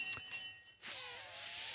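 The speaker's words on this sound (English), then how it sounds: "We're about to ring the bell." A bell sound effect cued to mark a market open rings out as a bright, sustained metallic tone with shimmering overtones, preceded by faint lighter chimes.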